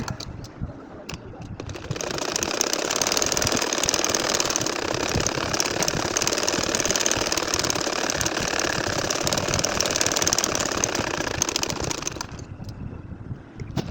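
A sewing machine runs fast and steadily while stitching lines on a nakshi kantha quilt, starting near two seconds, buzzing continuously, then stopping shortly before the end.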